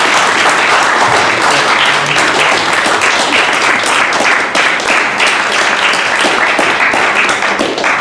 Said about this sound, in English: can you give them a massive round of applause?